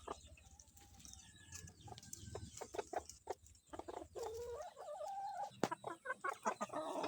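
Five-month-old Kelso yellow-legged straight-comb gamefowl, backyard-bred, clucking and calling repeatedly in a run of short, uneven bursts, fairly close and moderately loud over a faint outdoor background.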